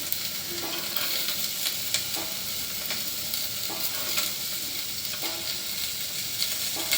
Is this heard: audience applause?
no